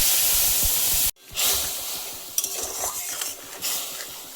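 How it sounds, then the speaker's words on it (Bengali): Tomato and green chili paste dropped into hot oil for a mushroom curry, a loud hiss that cuts out briefly, then a renewed sizzle with stirring and pan scrapes, close by and with no voices. "এই যে পেস্টটা রেডি করেছিলাম টমেটো আর কাঁচা লঙ্কা দিয়ে এখন সেটা আমি দিয়ে দিই"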